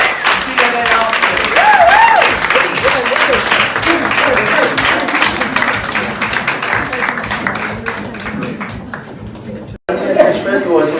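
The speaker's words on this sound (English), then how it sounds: "Right, so, a big round of applause." An audience applauds at a live hairdressing show of UK hair stylists, a busy clapping texture mixed with voices and some tonal sounds, fairly loud, dipping briefly near the end before picking up again.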